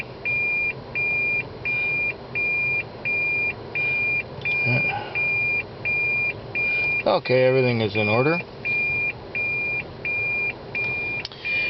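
Electronic equipment in a taxi emits a regular series of short, evenly spaced high beeps that run through the whole stretch, with someone briefly talking in the middle and car interior noise underneath.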